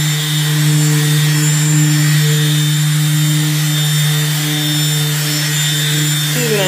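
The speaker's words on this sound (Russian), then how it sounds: "Берем рупис, включаем на вторую скорость и вперед." A Rupes rotary polisher running at second speed on a car hood, a steady loud whirring drone with a constant pitch held close for the whole stretch.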